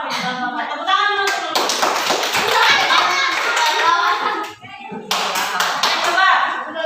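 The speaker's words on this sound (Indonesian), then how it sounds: "Tepuk tangan dulu." Classroom of children clapping hands together after a group presentation, a burst of quick claps with a teacher's voice and kids' chatter mixed in, pausing briefly before another round.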